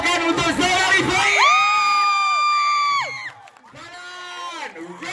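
A cinema crowd at a film screening cheers as the cast is introduced, with loud, sustained whoops and high yells that fade into quieter scattered shouts.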